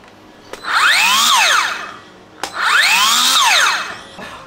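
Two bursts of a cordless grass trimmer with a steel circular blade, an IMAX IMGT-002GT, spinning up to a high whine, holding briefly, then winding down, with a short pause between them.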